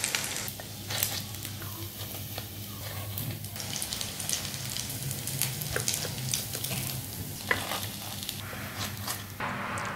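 Potato kebabs fry in hot oil with a steady, close sizzle, broken by light crackles and pops, with occasional soft clinks and stirring sounds.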